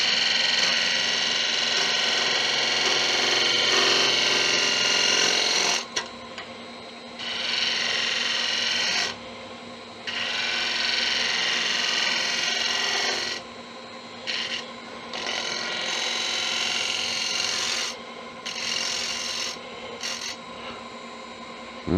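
A gouge on a wood lathe makes a shear cut on a wooden tuning fork stand, giving a steady, close raspy scraping in several long passes broken by short pauses.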